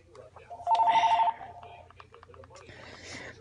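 A telephone rings with one short electronic ringtone burst near the start, loud and close, followed by faint background sounds and voices talking.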